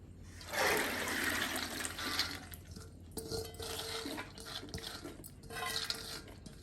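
Water from soaked green gram is poured and strained through a cloth into a vessel, giving a steady close splashing and trickling that eases briefly, then resumes with faint clinks of the pot.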